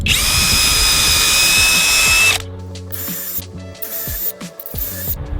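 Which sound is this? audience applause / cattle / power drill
power drill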